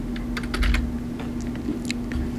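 Quick typing on a computer keyboard, a run of light key clicks in small irregular bursts, close and alone with no talk.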